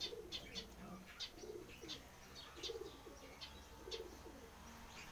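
A dove coos in soft repeated phrases near a cage on a house rooftop, with faint chirps mixed in; the calls are distant and quiet over low background noise.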